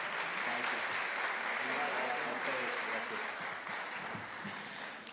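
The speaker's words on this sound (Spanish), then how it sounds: "Fuerte el aplauso nuevamente para ellos por su participación" Audience applause at a heritage stewards' gathering, sustained clapping from a crowd in a hall with murmured voices underneath, steady for several seconds before easing slightly toward the end.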